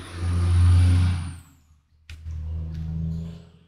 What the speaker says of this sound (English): Shut up, you truck.